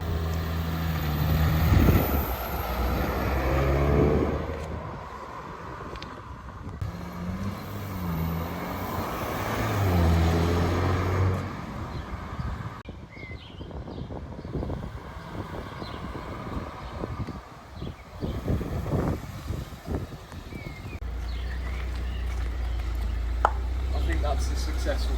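A rebuilt, previously wrecked Audi S5 on its first test drive, engine rising and falling through gear changes with road rumble and wind from inside the cabin, while people talk and exclaim over it.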